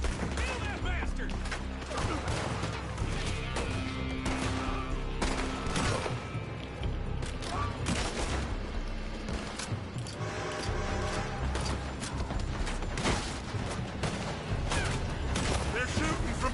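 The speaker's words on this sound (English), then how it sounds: "They're shooting from that building." Rapid, dense gunfire in the Red Dead Redemption 2 video game, with repeated sharp shots and bursts rattling steadily throughout, loud and continuous, mixed with in-game voices.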